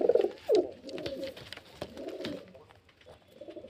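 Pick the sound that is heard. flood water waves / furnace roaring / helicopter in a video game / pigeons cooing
pigeons cooing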